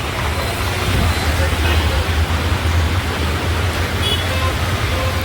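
Heavy rain pouring down at a roadside where bus passengers were put off, a loud, unbroken broadband hiss close by with faint voices blended underneath.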